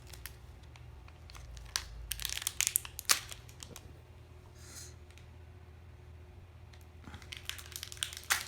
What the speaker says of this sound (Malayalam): മുട്ടായി തച്ച് പൊട്ടിച്ച് തിന്നോ.